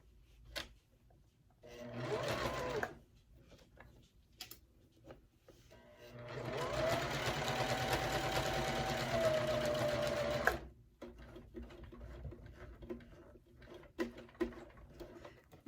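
A sewing machine stitches fabric in a short burst, then runs steadily for several seconds up close, with quiet handling clicks between runs.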